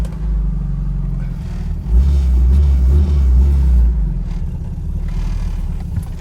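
A 1986 Dodge Daytona Turbo Z engine idles with a steady low rumble, swelling louder for a couple of seconds mid-clip before settling back to an even, loud drone, with no talk over it.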